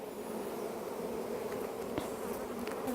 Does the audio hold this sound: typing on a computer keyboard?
no